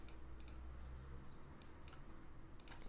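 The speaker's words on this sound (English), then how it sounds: "Sorry, just gonna type." Faint keys click in small bursts on a computer keyboard, a few quick taps spaced through a quiet room with steady low background hum.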